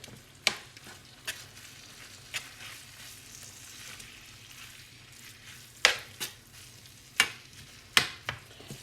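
Food simmers in a pan with a soft, steady bubbling sizzle, and sharp utensil clinks and scrapes of stirring sound now and then. The sound is close, and no one speaks.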